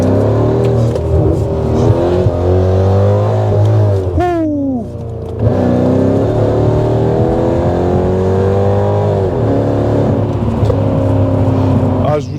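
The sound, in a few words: Mercedes E55 AMG V8 engine with full exhaust driven hard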